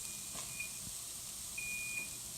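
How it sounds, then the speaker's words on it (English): A kitchen timer gives two thin, high electronic beeps about a second and a half apart. The beeps are faint and sit in the steady room hiss of a home kitchen during cooking. No one speaks. "now that our timer has gone off"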